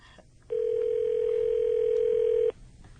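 A telephone line rings once with a single steady electronic tone lasting about two seconds, heard through the earpiece over faint line hiss.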